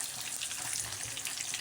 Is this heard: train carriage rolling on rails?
no